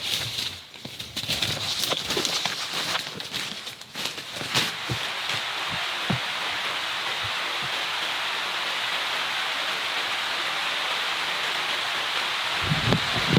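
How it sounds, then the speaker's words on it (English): Steady rain falls in a jungle as a dense, even hiss, with scattered close drips and rustling taps early on before it settles into a continuous wash, with no talk. "It's a healthy rain coming down."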